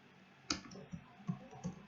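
A computer keyboard is typed on in a few separate, quiet clicks spaced irregularly, close and otherwise silent.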